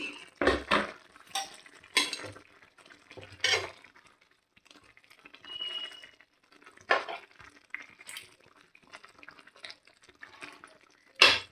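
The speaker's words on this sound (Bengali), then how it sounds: "দেখো ছানাগুলো আমি মিশিয়ে দিয়েছি, একদম মিশে গেছে টুকরো টুকরো হয়ে।" Chhana (cottage cheese) being mixed into a chilli curry in a pan, heard as irregular bursts of spatula scraping and clanking against the pan with a wet stirring sound and quiet gaps between strokes.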